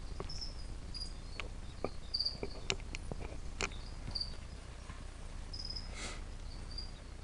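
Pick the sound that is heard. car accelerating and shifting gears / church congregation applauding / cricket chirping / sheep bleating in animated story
cricket chirping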